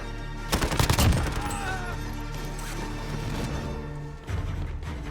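Gunfire in the Call of Duty Warzone video game: a rapid automatic burst of shots, then scattered distant pops and impacts, with another burst near the end.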